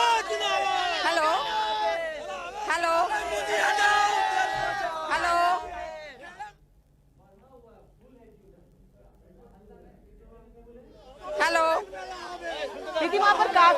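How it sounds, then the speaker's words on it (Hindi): A large crowd gathers at Didi's road show in Sonarpur, with loud chatter, shouts and cheering, then a quieter lull of murmuring before the crowd noise swells again, close and lively. "दीदी वहां पर काफी भीड़ इकट्ठा है।"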